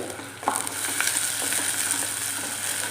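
Green chillies and curry leaves sauté in hot oil in a pan, a steady close crackling sizzle with a few clicks of stirring, loud and continuous, with no voices.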